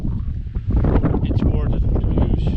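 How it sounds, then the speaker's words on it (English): Wind blowing hard across the microphone on a rocky seaside coast in cold weather, a steady buffeting roar that rises sharply after a brief calmer moment and stays loud throughout. "It's a little bit windy here and quite cold today"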